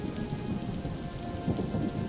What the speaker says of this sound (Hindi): वरना कहीं बारिश तेज ना हो जाए।